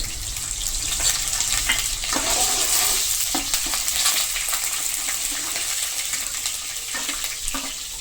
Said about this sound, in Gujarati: જે ગરમ મસાલા લીધેલા છે તે નાખી દેશું.